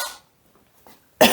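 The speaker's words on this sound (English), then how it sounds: "Excuse my coughs today, guys." A cough at the start, a fainter one in the middle, then a louder, sharp cough at the end, with quiet pauses between.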